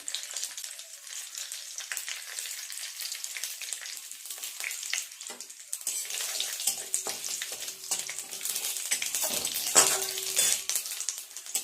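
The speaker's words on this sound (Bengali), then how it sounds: "ফোড়নটা একটু নেড়ে চেড়ে ভেজে নিলাম।" A tempering of dry red chili, bay leaf and whole cumin frying in oil for a fish kalia, crackling sizzle that swells as it is stirred, with occasional utensil scrapes, close and alone.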